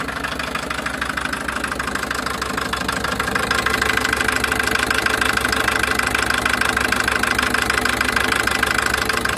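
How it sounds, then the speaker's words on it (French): A running engine in an old 1986 vehicle, heard close by as a continuous rough rumble with a fast, knocking pulse that grows slightly louder partway through, with no talk over it. "regardez, écoutez-moi ce moteur quand même"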